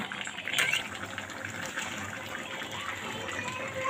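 Water poured into a pot of braised duck meat, a steady gushing flow heard close and fairly loud, continuing without break and with no talk.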